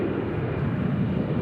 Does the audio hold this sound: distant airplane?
yes